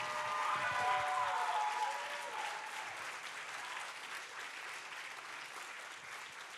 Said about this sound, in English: Then give yourselves a big round of applause.